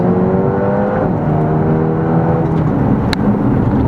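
A Mercedes A35 AMG hot hatch engine revs hard on a race circuit, a loud, steady droning roar with shifting pitch from inside the car and no voices.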